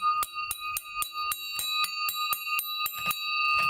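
A bell struck over and over in a steady rhythm, about a dozen bright ringing strikes at even intervals, each leaving a sustained metallic tone, close and fairly loud, with a rougher final hit.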